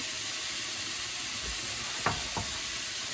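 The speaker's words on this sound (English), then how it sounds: "I will stir fry this until the meat is pretty well done" Meat and shredded cabbage stir-frying in a pan give a steady, moderate sizzling hiss, with two quick stirring scrapes near the end and no voices.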